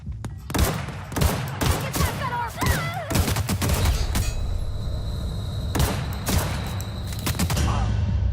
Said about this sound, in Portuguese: Ah, o cara dali tá atirando em mim.